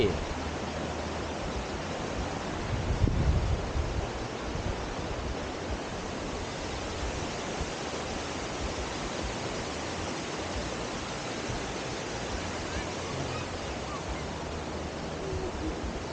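The Pha Daeng waterfall at a campsite in Thailand pours in a steady, dense rush of white noise that fills the whole stretch without pause.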